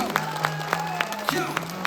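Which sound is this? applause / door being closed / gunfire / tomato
applause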